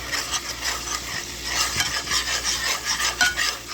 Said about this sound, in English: And I'm going to give it a stir.